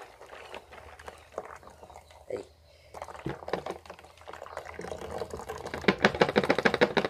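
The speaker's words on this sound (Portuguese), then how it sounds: "Põe em torno de um copo mais ou menos desse líquido dentro da garrafa" Liquid poured into a plastic bottle while making a homemade whitefly bait trap, a gurgling fill that swells louder toward the end, with a person talking over it.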